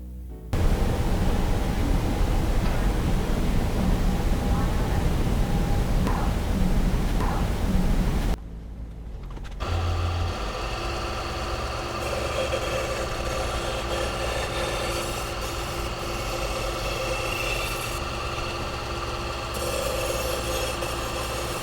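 A super steel knife blade is ground on a motor-driven CBN wheel. A loud rushing hiss gives way to a steady motor hum with a raspy, continuous grinding scrape, close and even throughout.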